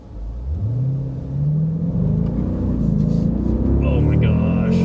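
Jeep SRT Grand Cherokee accelerating hard, its engine note rising in pitch and growing into a loud, continuous rumbling roar, with voices briefly near the end.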